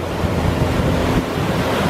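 Atlantic Ocean surf rolls and washes continuously near the shore, mixed with steady wind buffeting the microphone, loud and without speech.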